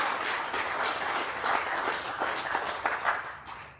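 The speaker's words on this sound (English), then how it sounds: "Could you please acknowledge these regional recipients with a round of applause?" An awards ceremony crowd at a peer support officer event gives a round of applause, a thick, even roar of clapping that holds steady and then thins out at the end.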